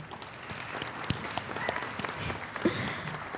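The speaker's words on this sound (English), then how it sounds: "A round of applause, please." A small audience applauds at an organized event, a soft, diffuse patter of clapping held at an even, moderate level with a few sharper claps standing out briefly.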